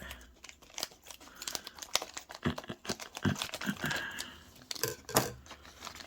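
Plastic packaging of an AUVON TENS muscle stimulator being cut and torn open, with irregular close crinkling, rustling and snipping bursts throughout and no talk.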